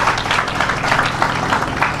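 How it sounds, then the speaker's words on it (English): Crowd applause at an apartment ribbon-cutting ceremony on Chicago's south side, a steady dense wash of clapping that holds evenly for the whole stretch. "Give them a round of applause."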